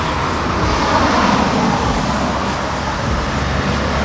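Cars passing on a busy road make a steady, loud, broadband roar of traffic that never drops away, with no speech.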